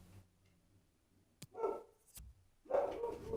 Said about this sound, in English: Never mind the dog.